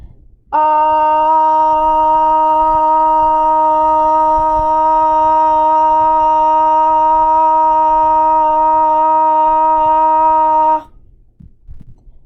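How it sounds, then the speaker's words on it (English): A single loud, steady sung "ah" vowel held evenly for about ten seconds, with quiet room sound before and after. "the sustained ah for 10 seconds"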